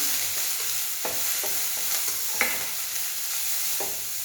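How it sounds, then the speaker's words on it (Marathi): Cabbage bhaji gets stirred in a hot pan, a spatula scraping in a handful of distinct strokes over a steady, soft sizzle, close and without voices. "याला मिक्स करून घेऊया"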